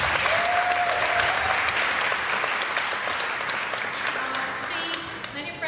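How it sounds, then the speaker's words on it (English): Loud, sustained applause from a crowd at a startup demo day in Cairo, steady dense clapping throughout that eases slightly near the end. "So a loud round of applause for all the participants alive and still sane here"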